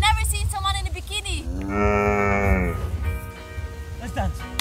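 Cows in a Scottish field moo loudly and close by in a long drawn-out call, with people talking before and after it.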